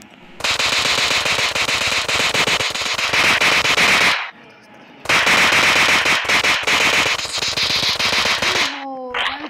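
Automatic gunfire in the mobile game Indian Bike Driving 3D comes in two long, loud rapid bursts with a short pause between them, followed by a brief electronic game tone.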